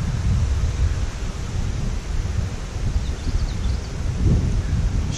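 Strong wind buffets outdoors, a constant loud low rumble with gusty swells throughout and no voices.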